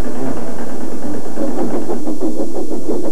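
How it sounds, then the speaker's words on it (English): A tractor engine runs steadily while ploughing a field, a loud, close, chugging mid-low drone with a regular pulsing rhythm and no voices over it. "the tractor was hard at work as Thomas puffed along"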